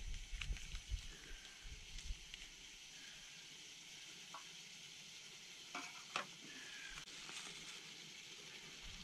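A chunk of butter sizzles and spits softly in a cast iron pan at an outdoor campsite, a faint continuous frying hiss with a few small pops and clinks.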